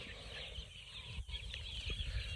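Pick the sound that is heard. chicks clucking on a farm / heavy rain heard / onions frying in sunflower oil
chicks clucking on a farm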